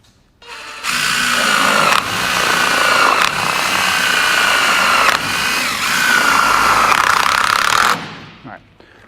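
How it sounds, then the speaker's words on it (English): A power driver runs fasteners through the sides of a standing seam metal roofing closure into the vertical seams, three loud sustained whirring bursts with brief pauses between them, close up. "So I'm going to put a fastener in through the sides of this closure and through the vertical"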